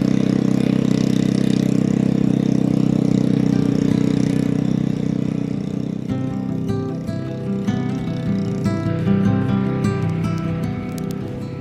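Garden tiller engine running steadily close by with a droning mid-pitched rumble that shifts to a rougher, rattling note partway through, no talk.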